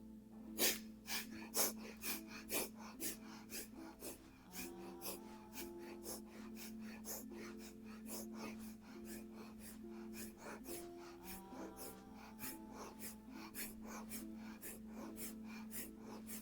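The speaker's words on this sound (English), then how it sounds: "this will be rocking in the bow pose with the breath of fire" Rapid, rhythmic breath-of-fire exhalations come from someone rocking in yoga bow pose, a steady stream of short forceful puffs over soft sustained background music.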